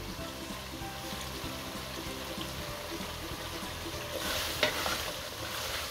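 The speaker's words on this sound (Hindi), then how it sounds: "गोश्त को मैं अच्छे तरीके से भून लूंगी।" Lamb meat fries with cumin in a pan, giving a quiet, continuous sizzle broken by soft scraping stirs and a slightly louder clatter toward the end.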